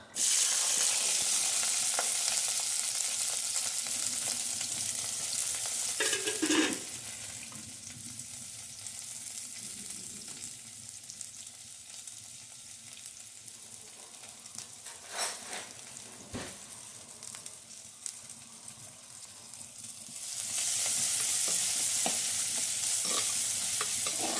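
Raw plantain, dried fish, ginger, garlic and green chili sizzle and fry steadily in a pan, with stirring scrapes throughout, the frying loudest at the start and near the end.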